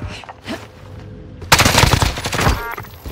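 Call of Duty Warzone gunfire: a few scattered shots at first, then a loud, sustained automatic burst erupting halfway through and rattling close to the end.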